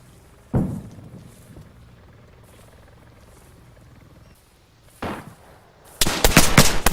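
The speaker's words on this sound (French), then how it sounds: "Oh, grenade, attention." Grenade blasts in the Arma 3 military shooter game: a heavy thump, then another muffled boom, followed by a loud burst of rapid crackling detonations or gunfire close by, with quiet ambient noise between.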